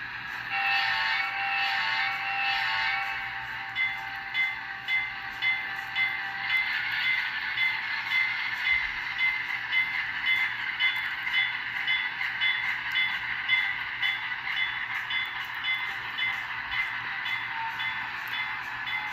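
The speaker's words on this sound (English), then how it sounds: "now what we're going to do is we are going to bring the locomotive out" A small model locomotive hums and clatters steadily along the track onto a turntable, with rhythmic mechanical ticking and whirring, continuous and fairly close, no voices.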